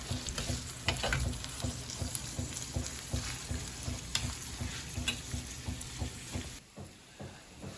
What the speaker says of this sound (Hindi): तो प्याज को अच्छी तरह हमने इधर करना है फ्राई अच्छी तरह से, जब तक ये ब्राउन ना हो जाए